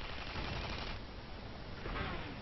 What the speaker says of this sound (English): getting some sniper shots on him